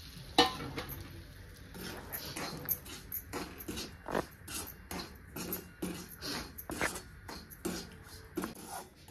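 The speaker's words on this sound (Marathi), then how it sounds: "बारीक केलेलं शाबूचं पीठ ह्या तुपामध्ये टाकून घ्यायचं" Ground sago flour stirred into melted ghee in a pan, with intermittent scraping and clinking stirring strokes over a faint sizzle, fairly quiet and close.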